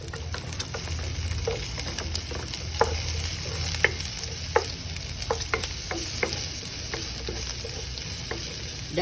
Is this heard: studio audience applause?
no